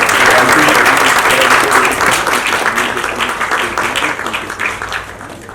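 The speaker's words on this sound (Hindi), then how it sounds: "तालियां बनती है तो बहुत अच्छा होगा।" A crowd at an awards ceremony bursts into loud, dense applause that stays thick for a few seconds and then slowly thins and fades, with no talk over it.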